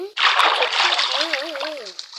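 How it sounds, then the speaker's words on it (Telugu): Rushing, splashing water in the Minecraft video game, heard while mining into a cave. It starts abruptly and keeps up as a loud, continuous wash, with a wavering tonal sound gliding over it near the end. "నేను ఇలా మైన్ చేస్తూ ఉంటే నాకు ఒక వాటర్ తగిలి అనమాట"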